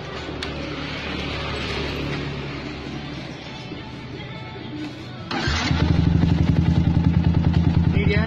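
A Yamaha R15 fitted with a Proliner TR1 long exhaust and no dB killer runs with a low rough rumble, then fires up into a louder, steady throbbing idle, close to the microphone.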